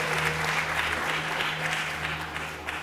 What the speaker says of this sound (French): S'il vous plaît, applaudissez pour lui.